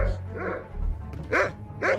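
A dog barks three times in short, sharp yaps, close by, with a low hum underneath.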